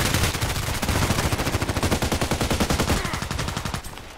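Rapid SKS carbine fire in the Contract Wars video game: a dense, loud string of sharp shots fired in quick succession for about three seconds, then a few more spaced shots tapering off.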